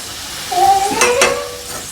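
Liver frying in a pan, with a steady low sizzle and a couple of short scraping stirs near the middle, close and moderately loud, with no talking.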